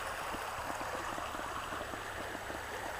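A small river flows steadily at a bankside, giving a continuous broadband rush of water with faint gurgles throughout, close and even in level, with no voices.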